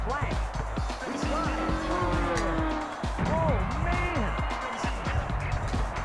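Upbeat techno music from the basketball video game NBA Hangtime plays at moderate level, with steady beats and bright synth lines mixed with game sound effects like squeaks and skids.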